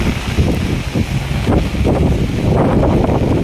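Strong monsoon wind whipping across Manila Bay, with loud continuous gusting that buffets the microphone and a rough roar that surges and eases without a break.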